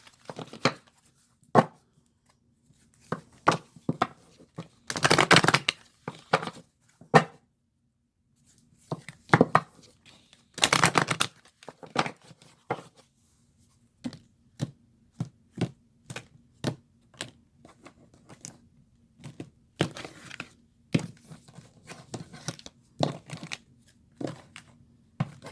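Oracle cards being shuffled and cut by hand: bursts of riffling flutter between sharp, close taps and clacks of the deck, irregular and quiet, with no talking.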